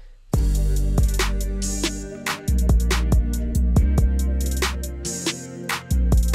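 A deep, booming 808 bass line plays in a steady beat, with sliding bass notes under crisp hi-hat ticks and layered electronic music.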